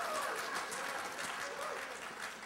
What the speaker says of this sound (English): you applaud because you think that's a great idea